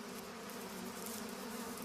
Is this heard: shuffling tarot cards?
no